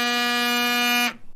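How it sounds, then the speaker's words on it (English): A phone rings with one sustained electronic buzzing tone, loud and close, lasting about a second before cutting off abruptly, heard alone. "That's my phone. I wonder who could be calling me."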